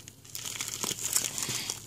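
A plastic packaging bag crinkles and rustles close by during the unboxing of AliExpress nail-art parcels, with quick crackling handling noises and no voices.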